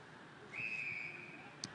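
An umpire blows a single sustained whistle blast at an Australian football match between the Geelong Falcons and Calder Cannons, a thin steady tone heard at moderate distance over faint ground ambience.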